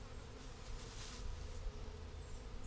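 A large bee swarm hums at a hive, a continuous close droning buzz with slight swells in loudness, heard alone without any talking.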